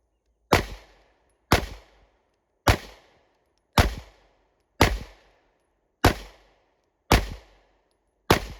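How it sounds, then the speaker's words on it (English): Eight sharp, loud pistol shots from an H&K VP9 SK, fired at a steady pace about one per second during a warm-up string at a shooting range, each crack followed by a short decaying echo. "I am going to be shooting the H&K VP9 SK. And this is my 10-shot warm-up"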